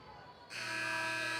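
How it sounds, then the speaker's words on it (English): An electronic buzzer sounds at an indoor soccer arena, cutting in abruptly after a quieter moment and holding as a steady, bright tone to the end. "Buzzer sounds."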